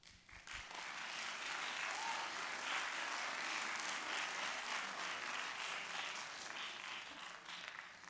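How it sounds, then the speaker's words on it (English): A crowd of parents and residents claps at a high school curriculum night in Troy Athens in 2023. The applause swells quickly into a full, even wash that holds for about eight seconds, with no voices over it. "we'd like to just give all of our Troy residents a round of applause really quick"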